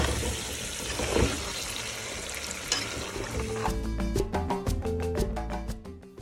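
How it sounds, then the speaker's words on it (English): Water runs into a cooking pot for Gambian benachin jollof rice, a steady splashing pour that grows more resonant and bubbly as the pot fills, heard close up with no talking. "Now I'm adding water to the pot."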